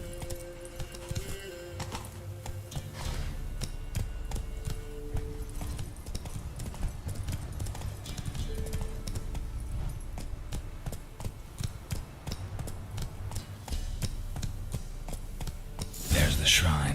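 Galloping horse hooves in The Witcher 3 video game pound in a fast, steady rhythm throughout, close and prominent, with a brief louder burst near the end.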